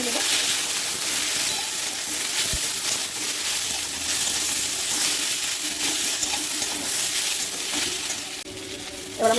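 Fried potato and onion with ground spices being stirred in a pan, a dense steady sizzle with scraping and a couple of utensil clinks.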